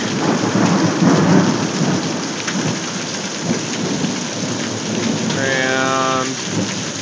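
A thunderstorm pours heavy rain with hail bouncing off a wooden deck, a dense hiss of rain and hail with rolling thunder, close and loud throughout, plus a brief bird chirp near the end.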